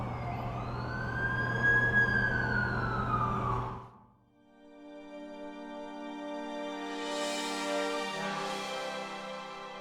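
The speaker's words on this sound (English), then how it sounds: "That's the ambulance I called." An ambulance siren in the Amazing Spider-Man 2 video game wails with a rising and falling tone, then cuts out briefly and returns as a layered, sweeping siren at moderate volume.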